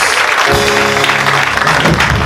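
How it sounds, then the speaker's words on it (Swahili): A church congregation claps loudly together during a Sunday service, a dense, steady wash of many hands sustained from start to end with no pause. "Piga makofi mazito kwa Bwana Yesu"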